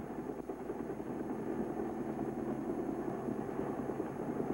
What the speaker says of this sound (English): these small gunships give Operation Game Warden the quick reaction firepower